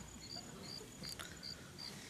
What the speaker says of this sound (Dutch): Hoor je die krekels niet?